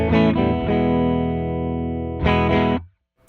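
An electric guitar chord rings out clean through an amplifier pedal with reverb controls at 9 and sustains, then a second strum rings briefly before being cut off into silence.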